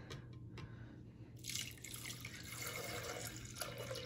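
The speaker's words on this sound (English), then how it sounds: "so we got 10 ounces of our nectar here I'm going to add" Nectar pours into a container while a midwives brew is mixed at home, giving a quiet, continuous liquid trickle and splash against faint background hum.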